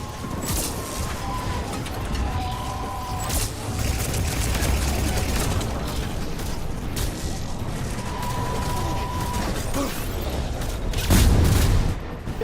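Video game combat in Mass Effect: loud booming explosions and bursts of gunfire crash over a dense battle din, with repeated sharp blasts and a heavy impact near the end.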